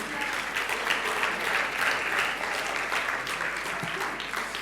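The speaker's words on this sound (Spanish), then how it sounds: "Dale un fuerte aplauso al Señor si querés." A church congregation breaks into sustained applause, thick and even clapping from many hands that stays loud and steady throughout, with faint crowd murmur underneath.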